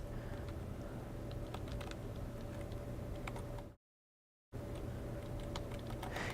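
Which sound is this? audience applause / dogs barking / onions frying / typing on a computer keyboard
typing on a computer keyboard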